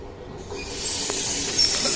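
A train bound for Naples centre pulls into a station in Italy, a steady hissing rumble with a faint wheel squeal, heard alone without talk.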